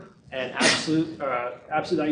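A single sharp sneeze bursts out in a lecture hall, briefly cutting across a lecturer's continuous speech.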